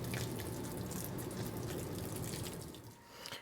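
Water sprays and patters steadily onto seed trays inside a walk-in dog bathtub. The hiss is soft and continuous and eases slightly near the end.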